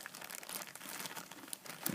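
A small plastic bag holding toy accessories crinkles and rustles up close in quick, soft, irregular bursts that last throughout, with no talk.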